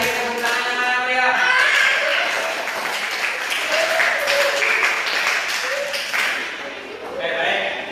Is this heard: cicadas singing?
no